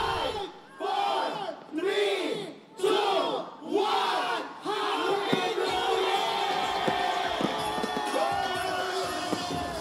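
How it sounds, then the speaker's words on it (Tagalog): A large crowd celebrating New Year in Quezon City streets, roaring in repeated surging waves of cheers and shouts, then settling into a dense, sustained din of many voices singing and yelling. "Masasayang hiyawan at kantahan sa iba't ibang sulok ng lungsod"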